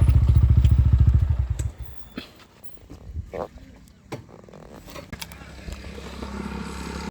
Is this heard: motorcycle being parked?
yes